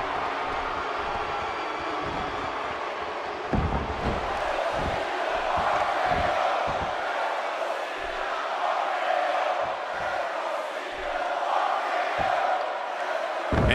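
Steady roar of an arena crowd in WWE 2K wrestling, a continuous wash of cheering and shouting with some thumping impacts underneath, fairly loud and sustained throughout.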